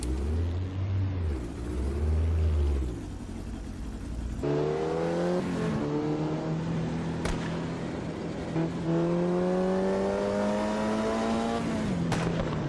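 Lotus 51 race car in the video game Automobilista 2 at Willow Springs, its engine loud and close, revving up and down through gear changes with rising pitch sweeps and a steady roar.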